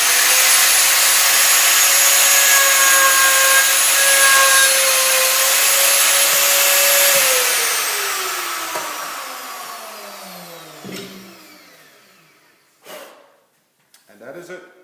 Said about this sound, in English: Reach over, turn it on, and then we slowly make a cut from the top down through the material.